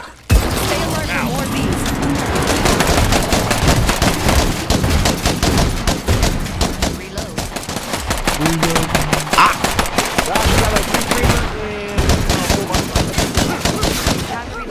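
Rapid bursts of gunfire from the video game State of Decay 2 rattle almost nonstop, loud and close, mixed with game effects while a player talks over the shooting.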